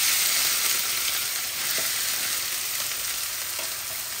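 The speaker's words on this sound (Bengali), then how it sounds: "এখন এইটা একটা বড় অনিয়ন আমি শাকের মধ্যে দিয়ে দিচ্ছি" A large onion sizzling in a pan with chopped frozen spinach greens, a dense, bright frying hiss that runs steadily throughout with a few faint clicks of a utensil, near and loud.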